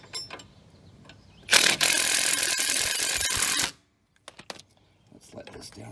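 A ratchet working loose a nut on a 2009 Nissan Altima's rear spring, a dense burst of clicking lasting about two seconds, followed by a few faint knocks.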